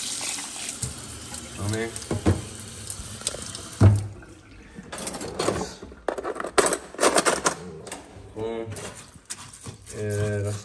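Tap water runs into a pot of rice at a kitchen sink, a steady broadband rush broken by brief splashes and handling clatter, with someone talking intermittently over it.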